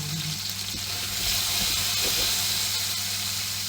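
Meatballs fry in oil in a pan. A close, steady sizzle and crackle of hot oil runs throughout with no pause, a dense hiss with a low hum beneath it, and no voices.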